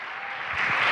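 Applause from a church congregation swells and grows louder over a brief moment, a dense wash of clapping.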